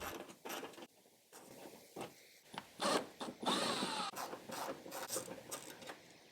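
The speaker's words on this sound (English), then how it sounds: "Then on each side of the bumper, remove the T30 screws on the underside." Faint, close clicks and ratcheting rasps of a tool backing out T30 screws on the underside of a Porsche 997 bumper, coming in short irregular bursts with quiet gaps.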